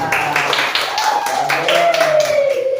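A classroom full of students claps together for a correct answer in a religious studies lesson, a loud rhythmic run of hand claps at an even beat, with a teacher's voice talking over them.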